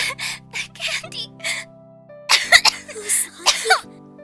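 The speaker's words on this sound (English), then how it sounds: "coughing up blood into a toilet bowl" A person coughs and retches harshly into a toilet bowl, coughing up blood in several wet, strained bursts, close by, after some quieter breathy sounds.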